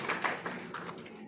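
Brief, scattered clapping from an audience at a university panel discussion on AI, fairly faint and thin, fading out after about a second.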